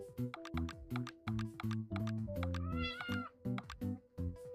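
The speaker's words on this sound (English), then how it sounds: "Kitty scared me." A house cat meows repeatedly in quick, close bursts, with one longer wavering cry in the middle, clear and without talking.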